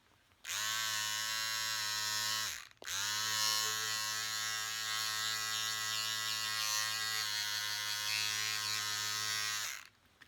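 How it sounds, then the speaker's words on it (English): An electric razor shaves skin near a small wound, giving a close, steady buzzing hum that stops briefly, restarts, and runs evenly for about seven more seconds. "I'm just going to shave that, okay?"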